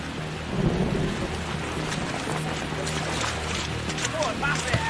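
Heavy rain pours down in a film scene, a dense, loud roar of falling water with low rumbling thunder beneath, and a voice briefly audible over the downpour.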